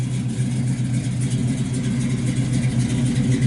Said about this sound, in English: It's a good sounding car. It's got a set of flows on it out the back.